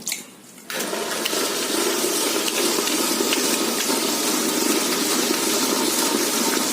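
A wet grinder switches on abruptly and churns soaked pearl millet with its soaking water into batter, giving a loud, steady, sloshing grinding roar that continues unbroken.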